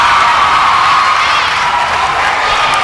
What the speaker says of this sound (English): Listen to that Kennedy crowd as they now have a 6-point lead